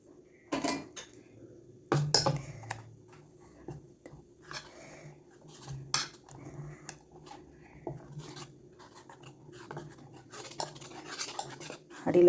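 Rice flour batter for a Kerala-style kalathappam being stirred by hand in a pot, with repeated close scraping and clinking against the metal rim in an uneven rhythm, moderately quiet and with no talk.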